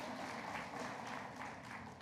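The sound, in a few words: congregation applauding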